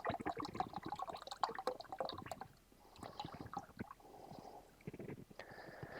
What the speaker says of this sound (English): Now we'll fill it up with our Shark Vac Mop cleaning solution here.